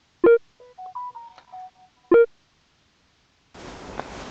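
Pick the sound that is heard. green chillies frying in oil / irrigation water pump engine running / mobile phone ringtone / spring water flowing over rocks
mobile phone ringtone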